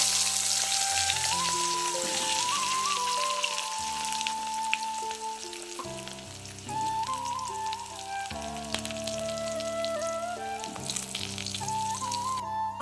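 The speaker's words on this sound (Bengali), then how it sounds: "দিয়ে আমি এবার কচুগুলোকে ভেজে নেব" Taro pieces fry in oil seasoned with whole cumin seeds, a continuous crackling sizzle with occasional stirring, heard under background music.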